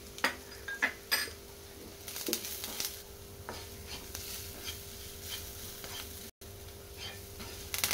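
Sprouts stir-fried in a pan give a soft sizzle punctuated by repeated scraping and clinks of a spatula against the metal, close and uneven.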